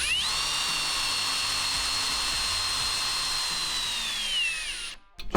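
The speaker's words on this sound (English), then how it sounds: "So you just want to keep screwing this down until it is firm and snug" A power drill whines steadily and loudly while driving bolts into well nuts to mount Putco MOLLE panels on a GMC Sierra AT4 MultiPro tailgate, then winds down and stops near the end.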